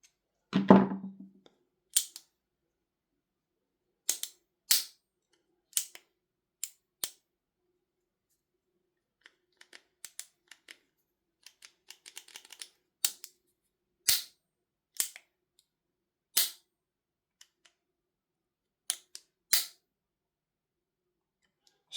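A Tokyo Marui MWS airsoft gun with an adjustable trigger pack being cocked and dry-fired: a sequence of sharp, isolated mechanical clicks and snaps, close and clear, separated by silence.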